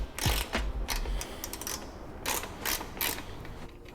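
Wrench and 6mm hex key loosening a 13mm exhaust nut on an Aprilia RSV4 motorcycle: a string of close metallic clicks and ratcheting scrapes, with a sharp knock near the start and brief rasping bursts later.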